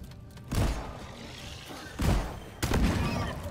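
Shotgun blasts in the video game Deep Rock Galactic, three heavy booming shots spaced about a second apart over a dense background of game noise.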